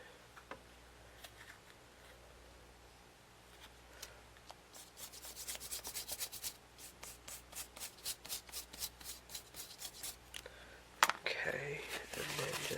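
Paint being rubbed off a vintage print, a rapid, rhythmic dry scrubbing that starts quietly and grows louder and denser, with a voice heard speaking faintly near the start.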